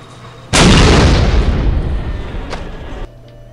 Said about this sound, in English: Now everything's going to explode.